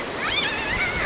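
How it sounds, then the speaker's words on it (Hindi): A fierce, fast-flowing river rushes in a loud, steady roar close by, with no other sounds breaking through. "यहाँ पे देखो नदी का पानी भी कितना भयंकर लगा हुआ है।"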